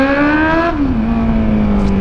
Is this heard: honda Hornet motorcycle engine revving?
yes